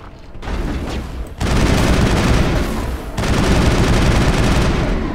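An inaccurate gun fired by the player in Mass Effect (2007 version) gives loud, sustained bursts of rapid gunfire, with a brief pause near the start and another around three seconds.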